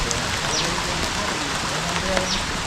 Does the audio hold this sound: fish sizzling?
no